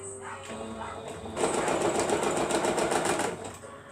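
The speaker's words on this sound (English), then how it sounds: "we're going to sew it down." Close by, a sewing machine sews down fabric petals on a rose pincushion. There is a brief, steady burst of rapid stitching between quieter handling sounds.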